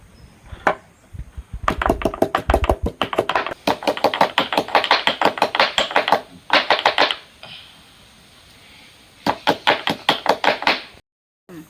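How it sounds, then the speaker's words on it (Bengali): Ginger pounded with a metal mortar and pestle (hamandista), sharp rapid knocks in several long bursts separated by short pauses, close and loud. "এবার হামানদিস্তা করে একটু কুটে নেব।"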